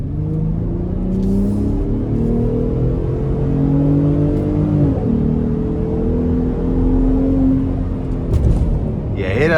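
2025 Ford F-150 Raptor pickup accelerating from inside the cab, a steady loud engine drone rising through the gears with one shift midway, continuous and unbroken with a brief rustle at the end.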